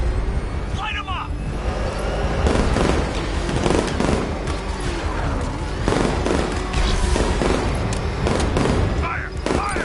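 Sustained gunfire in a Batman video game, with continuous rattling shots and booming impacts under urgent shouted voices throughout.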